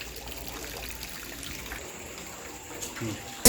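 Water from a tap runs steadily and softly while chicken is washed with turmeric in a home kitchen. A brief louder splash comes at the end.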